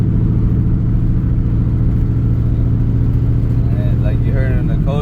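A Ford Mustang's Coyote V8 engine idles with a deep, steady exhaust rumble close by, its pitch rising briefly near the end as the throttle is blipped.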